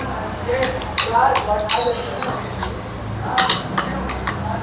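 Avocado bhel with coriander powder being stirred in a bowl: repeated scraping and clinking of a spoon against the dish, fairly close, with a voice talking over it.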